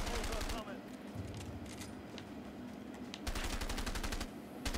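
Gunfire during a shootout in the video game A Way Out: rapid bursts of automatic fire, loud and close, one run at the start and another near the end, with sustained game noise in between.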